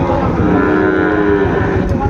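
A Sahiwal bull or calf at the Ambari cattle market in Dinajpur gives a close, loud, drawn-out moo lasting about two seconds, with market noise in the background.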